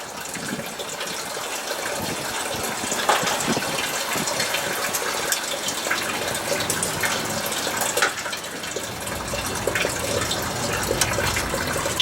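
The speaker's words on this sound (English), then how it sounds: "there goes the fan" The cooling fan of a 1982 Ford F150 fitted with a 4BT Cummins runs nearby, a steady, rushing whoosh of air with a few small knocks and rattles over it.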